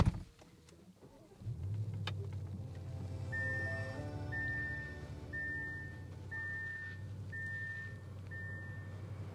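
A 2025 Audi S8 sedan engine starts with a quick crank and settles into a smooth low idle, while a series of six evenly spaced electronic chimes sounds from inside the cabin.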